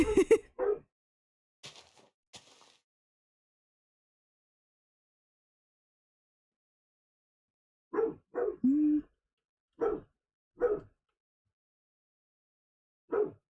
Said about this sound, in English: Also, forgive the dog. It is around their feeding time, and he is demanding food.